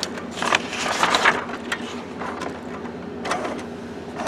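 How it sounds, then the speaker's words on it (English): Canon TS-series inkjet printer fitted with a continuous ink system feeding and ejecting a sheet, a near mechanical whirring with brief rattling bursts of paper movement in a small room. "Okay, it always kicks out a sheet."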